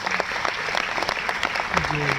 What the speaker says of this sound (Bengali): জোরে হাততালি ওনার জন্য